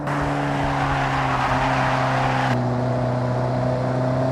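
An Alfa Romeo 4C's 1.75-liter turbocharged four-cylinder engine holds a loud, sustained high-rev drone with strong steady harmonics, shifting pitch slightly partway through with no voices.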